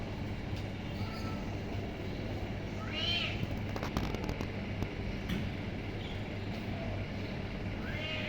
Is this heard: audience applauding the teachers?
no